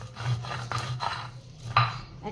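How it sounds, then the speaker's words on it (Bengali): Ginger and garlic being crushed together with cardamom and cinnamon on a grinding stone, giving a few separate rubbing, scraping strokes up close over a low steady hum. "আদা রসুনটা একটু থেতো করে নিচ্ছি"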